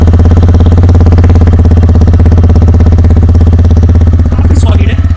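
A TVS Raider 125 single-cylinder motorcycle idles in neutral with a steady, close, loud throbbing exhaust beat that stays even throughout, with a faint higher whine near the end.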